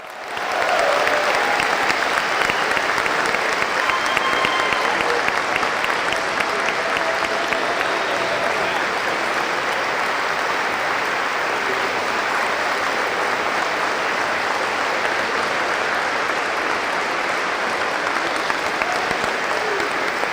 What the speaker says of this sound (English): How about one big, solid Buffalo round of applause for all of our inductees?